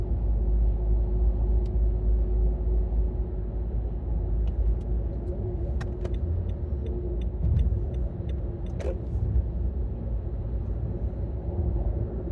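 Steady road noise from a car driving down the road, a continuous low rumble of tyres and engine with no talking, holding at an even level throughout.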